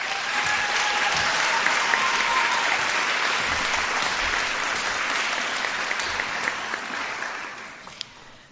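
Audience applause at a pharmacy school white coat ceremony, a full, sustained roomful of clapping that stays dense and then tapers off toward the end.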